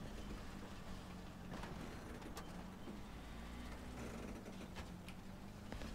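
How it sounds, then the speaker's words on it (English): Heavy tank engine in War Thunder, an M6A1, roaring loud and steady throughout with a deep low rumble and clanking, rattling tracks over bumpy ground, no voices. "This thing is so loud, even with my engine volume down."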